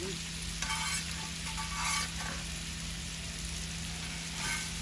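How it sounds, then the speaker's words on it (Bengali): Hilsa fish being fried in a pan for a curry with eggplant: a soft, steady sizzle with occasional stirring scrapes, quiet and close, over a faint constant hum, with no speech. "মাছটা একটু কষাই পরে তরকারি"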